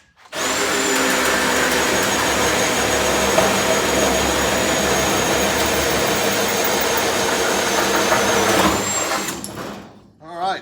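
Cutoff wheel slicing through the remaining side of a steel piece on a NASCAR Winston Cup Buick Regal, a loud continuous high-pitched whine held steady for about eight seconds before spinning down.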